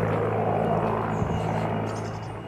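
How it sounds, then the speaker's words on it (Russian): A helicopter passes overhead near a reservoir in Belarus, its low rotor thrum steady and fairly loud before slowly fading, with no voices heard. "Почему летают вертолеты?"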